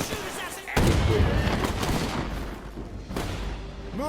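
Gunfire and heavy booms in the war strategy game Men of War 2, a sudden loud burst of shots and explosions that rumbles on, with a second blast later and a voice talking underneath.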